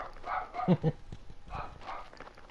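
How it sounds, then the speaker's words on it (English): Video game dogs bark in a few short bursts, moderately loud, over a rumbling in-game background with faint ambient sound between barks. "Dogs are barking at something."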